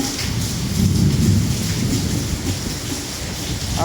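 Heavy rain pours steadily during a thunderstorm in Malaysia, a dense continuous roar with low rumbling underneath, loud and close throughout with no voices.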